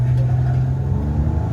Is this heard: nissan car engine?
yes